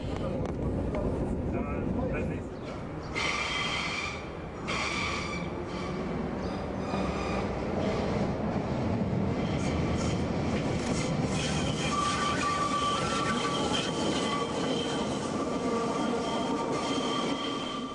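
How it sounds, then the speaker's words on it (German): A Berlin U-Bahn small-profile type A2 train passing through Neulendorfplatz station, rumbling loudly with rattling wheels and sustained metallic squeals as it rolls through, and no speech. "Durchfahrt im Bahnhof Neulendorfplatz."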